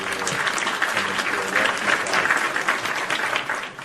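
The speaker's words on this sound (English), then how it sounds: "another round of applause for" Audience applause at a live wrestling talk show fills the space with steady, dense clapping throughout, loud and close, tapering slightly at the end.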